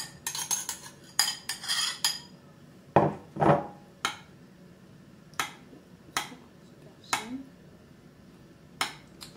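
Spoon clinking against a dish while leftover tomato sauce goes over eggplant rolls in a moussaka-style gratin, a series of sharp separate taps and scrapes with short pauses between, close and fairly quiet.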